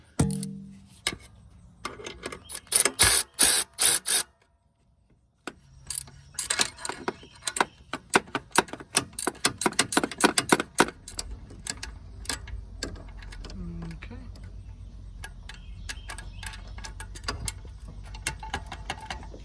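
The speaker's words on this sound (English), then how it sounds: "now we're going to loosen up the tensioners for the alternator and for the air compressor, or the AC compressor" Ratcheting clicks and metallic tool taps come up close as the belt tensioners for the alternator and AC compressor are loosened on a 2007–2011 Kia/Hyundai 2.0 engine, in bursts with a short pause.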